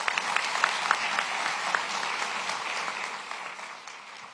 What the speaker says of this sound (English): Give Lieutenant Harrison another round of applause.